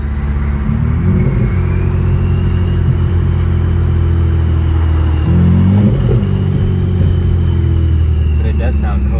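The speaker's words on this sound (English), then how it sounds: "It almost sounds like a big ass like single turbo or something." A BMW 335i with an N54 engine and upgraded 19T turbos pulls hard from inside the cabin, its engine droning loudly with a rising surge midway. People talk over the steady roar.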